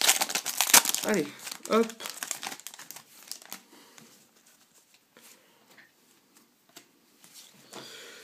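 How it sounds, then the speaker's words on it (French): Foil trading card booster pack wrappers crinkle and tear in quick bursts up close, loud at first and then fading to sparse rustles, with someone speaking briefly in French. "Peut-être pas ouvrir 2 boosters à la fois."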